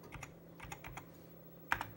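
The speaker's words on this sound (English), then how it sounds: "So I'm going to type in hello." Keystrokes on an Amiga computer keyboard, a handful of scattered clicks over about two seconds with a sharper, louder tap near the end, close and clear over a low steady hum.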